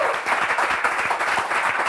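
A studio audience at a Bible quiz show applauds a contestant with loud, dense, continuous clapping that holds steady from start to finish.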